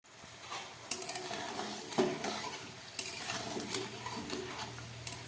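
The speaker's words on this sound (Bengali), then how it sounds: "প্রায় সাত আট মিনিট ধরে আমি কচুরিগুলোকে খুব ভালো করে একদম গ্যাস কমিয়ে ভেজে নিচ্ছি" Chicken khasta kachori deep-frying in oil over low heat, a steady soft bubbling sizzle with occasional sharp clinks and scrapes of a utensil against the pan, close and moderately loud throughout.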